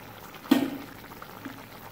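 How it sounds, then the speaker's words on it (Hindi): Cooking oil is poured into a pan of cooked onion and tomato, a short splashing pour followed by a faint bubbling simmer. "अब हम इसमें ऐड करेंगे कुकिंग ऑयल।"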